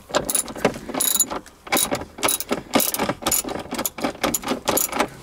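Ratchet wrench clicking in rapid bursts as 12 mm bolts are backed out of a Hyundai gear shifter assembly, close and loud, with repeated ratcheting strokes separated by short pauses.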